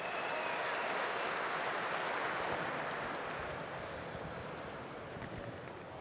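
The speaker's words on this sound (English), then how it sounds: "Let's give the Keith Pro Stock Tractor drivers a nice round of applause." Indoor crowd applause for Pro Stock tractor pull drivers at the 2023 winter nationals in Freedom Hall, a dense, continuous wash of clapping heard from a distance, fading slightly toward the end.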